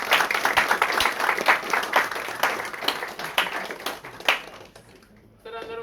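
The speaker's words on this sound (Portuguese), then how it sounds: "uma salva de palmas" A room full of people at a round-table talk on African construction breaks into dense, sustained applause that carries on for several seconds and then trails off, followed by a voice beginning to speak near the end.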